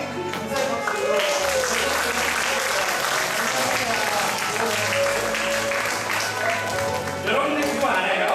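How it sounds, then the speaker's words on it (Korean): Grateful applause for the mothers who cooked a meal at a church gathering, a dense, loud wash of clapping from a crowd, with voices and cheering mixed in throughout. "우리 큰 감사의 박수로"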